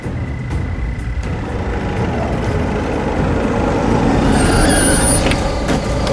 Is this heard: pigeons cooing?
no